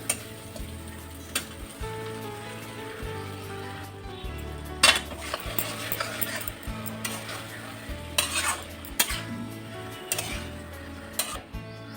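Fried potatoes and cauliflower are stirred into hot spiced oil in a pan, giving a steady sizzle broken by loud scraping and clanking of the spoon against the metal, with no talking.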